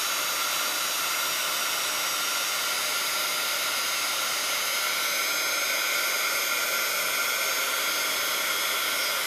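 A dryer blows continuously to dry texture paste on a watercolour scrapbook page, a loud, steady, close hiss of hot air running alone for the whole stretch.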